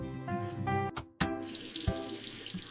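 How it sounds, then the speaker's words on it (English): A household tap is turned on, water splashing into a sink basin with a short clatter and a brief gap before the flow settles into a steady, close rush. "I turn on the water."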